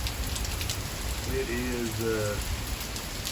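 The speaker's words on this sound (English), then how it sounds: "we got some of the big storm now" Steady rain from the edge of a big storm blowing sideways off a house, a constant wash of patter with a person speaking briefly over it.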